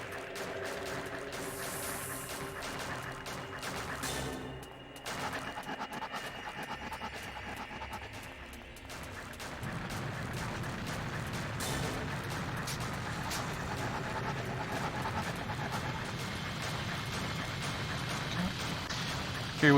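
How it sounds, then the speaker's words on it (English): Dogs pant in the video game Escape from Bug Island in a continuous, rapid rhythm, mixed with game music and mechanical clicking effects. "More dogs."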